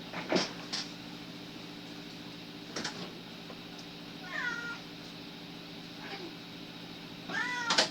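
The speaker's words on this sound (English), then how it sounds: "open the door to my cat. That's meowing if you can hear him." A cat meows at a closed indoor door, with several short, fairly faint cries spaced apart against a quiet room hum and no speech.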